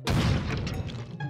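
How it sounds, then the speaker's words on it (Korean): A heavy millstone drops from a shelf with a single deep, booming thud that decays quickly into a short rumble, loud and close, with no voices. "맷돌이 선반에서 쿵 하고 내려앉더니"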